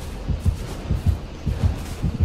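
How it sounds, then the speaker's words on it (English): Rhythmic low heartbeat thumps from the killer-proximity warning in the Dead by Daylight horror video game, a steady double-beat pulse repeating about every half second, fairly loud with a faint background hum. "the heartbeat's going insane"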